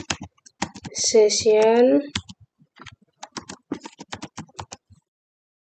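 Typing on a computer keyboard while setting up a PHP session script: a steady run of quick, close clicks and key taps, with someone speaking over the first part.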